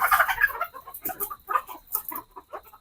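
Chickens on a small poultry farm with parent birds cluck repeatedly in short, irregular bursts, close by and moderately loud, with a few sharper calls standing out and no talking.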